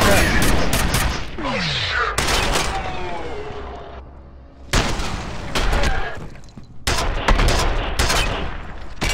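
Gunfire in the first-person shooter video game F.E.A.R., heard as loud bursts of rapid automatic shots with sharp cracks, separated by short quieter gaps and echoing tails.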